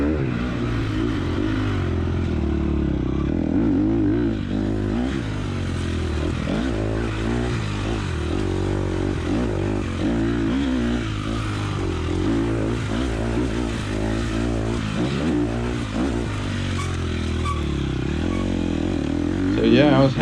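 A dirt bike engine revs hard and loud through a motocross step-up jump at a high school race, the drone rising and falling with throttle changes over about twenty seconds, close up and continuous.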